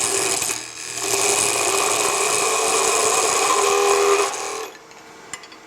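A beading and parting tool cuts a tenon on a spindle turning on a wood lathe, for the leg of a three-legged stool. A steady, close scraping whir runs for about four seconds, then stops.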